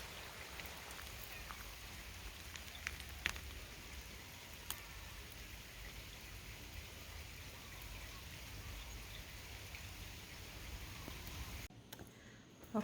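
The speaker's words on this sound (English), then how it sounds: "Kind of a rainy day here in Hawaii." Steady rain falls on an overcast day in Hawaii, a soft, even patter with occasional louder drops, faint and continuous, with no one talking.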